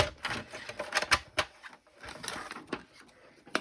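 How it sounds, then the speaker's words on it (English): A paper scoring tool worked over a sheet of card or paper for a gift bag, giving a quick run of dry, close clicking and scraping strokes in uneven bursts with brief pauses. "I'm going to bring in my scoring tool"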